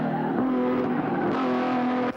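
A touring car at full speed during the Bathurst 1000 at Mount Panorama, its engine note loud and sustained at high revs, dipping briefly on a gear change before climbing again, then cutting off abruptly.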